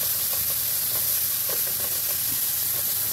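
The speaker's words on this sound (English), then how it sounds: "Now the bacon fat is rendering." Bacon fat rendering in a hot pan during a steak and mushroom stir-fry gives a steady, close sizzle and hiss that runs unbroken, with small pops and crackles and no voices.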